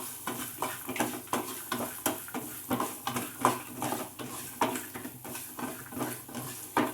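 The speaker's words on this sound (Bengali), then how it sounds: "দিয়ে আবারও আমি বাদামটাকে ভালো করে ভেজে নিলাম।" Peanuts sprinkled with black salt are stirred in a hot pan, producing rhythmic clattering scrapes of a spatula against metal every half second over a faint sizzle, close and fairly loud, without speech.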